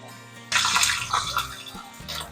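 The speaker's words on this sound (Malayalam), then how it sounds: "കടുകൊന്ന് പൊട്ടട്ടെ." Mustard and fenugreek seeds hit hot oil in a pan for pulissery and burst into a sudden loud sizzling hiss that keeps crackling and spluttering steadily, with a low hum underneath.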